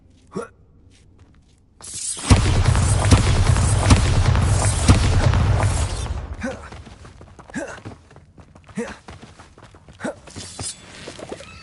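A Bombarda blasting spell from the Hogwarts Legacy video game bursts into a loud, roaring explosion that rumbles for about four seconds and then fades into scattered, fainter game sounds.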